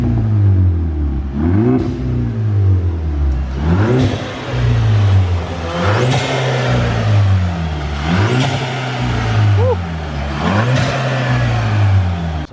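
A tuned VW MK6 GTI with a COBB tune, blast pipes and a CTS turbo intake revs hard again and again, about six rising throttle blips with a deep, raspy exhaust note falling back between each, loud and close.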